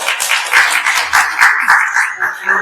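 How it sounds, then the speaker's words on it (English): An audience at a town hall meeting claps in a dense, sustained round of applause, steady and fairly loud for a couple of seconds. "Let's give him a round of applause again."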